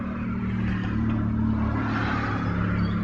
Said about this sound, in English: That's why you would be hearing some cars in the background.